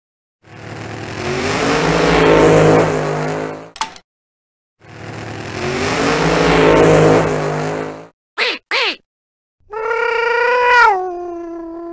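A voice imitates a car passing by: two long, rising and falling engine-like whooshes, a pair of quick squeaky bursts, then a higher, wavering revving tone, all close and loud with silent gaps between.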